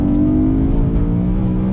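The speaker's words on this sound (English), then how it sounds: "You've got to rev this car out to enjoy it properly" A BMW E92 M3 engine revving, a loud close steady roar with a slight rising pitch that holds for the whole moment, no voices.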